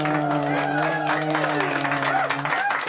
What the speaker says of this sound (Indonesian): Sekali lagi tepuk tangan. Tepuk tangan dong.